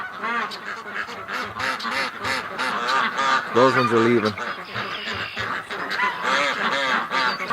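Ducks and geese being let out of their shelter, with a continuous jumble of loud quacks and honks close by, while a person talks over the flock.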